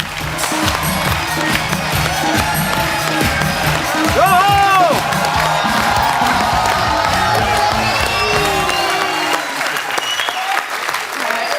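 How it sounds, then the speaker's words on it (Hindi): Loud studio audience applause and cheering on a Hindi TV comedy show, with whoops over steady clapping as a guest is welcomed, fading out near the end. "तो एक बार जोरदार तालियों से स्वागत हो जाए"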